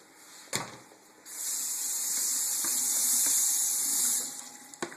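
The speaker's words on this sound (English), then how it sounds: "Rinsing off my cutting board." Running tap water splashes steadily over a cutting board in a kitchen sink for a few seconds, bracketed by sharp knocks and clatters of the board.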